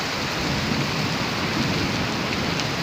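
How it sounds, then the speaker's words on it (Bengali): Heavy rain pours down steadily during a storm, a dense, even hiss of drops drumming on surfaces without pause and no voices. "এখন বর্তমানে যে বৃষ্টি পানি চলছে ভালো লাগে না।"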